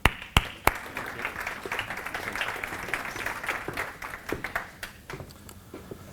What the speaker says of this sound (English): Please give a big applause to welcome him.